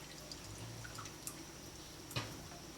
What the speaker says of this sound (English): I'm basically just letting a lot of the excess whey drip out